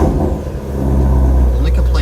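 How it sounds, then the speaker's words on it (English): A car engine runs with a deep, steady low rumble, close and loud, with a faint higher whir rising near the end. "Car sounds absolutely amazing."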